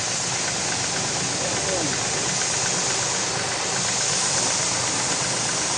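A car wash pressure washer spraying at high pressure, a loud, steady, dense hiss and roar that holds constant throughout, close to the nozzle with an engine-like drone beneath.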